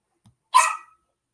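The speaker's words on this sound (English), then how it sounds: "Little bugger with his barking" A small dog gives a single sharp, loud bark at close range, preceded by a faint brief sniff or grunt, then silence.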